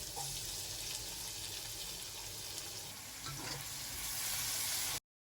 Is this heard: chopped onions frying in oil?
yes